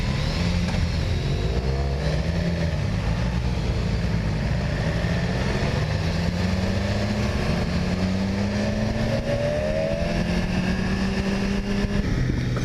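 A new 2017 BMW S1000RR sport motorcycle on a demo ride, its engine droning steadily with rising and falling pitch as it accelerates and shifts, mixed with constant wind rush throughout, with no talk over it.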